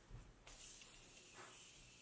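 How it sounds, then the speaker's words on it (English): Morphe setting spray misted onto a face: two short hissing bursts from a pump bottle, close and fairly quiet, the second softer than the first, with no talking. "with the Morphe setting spray."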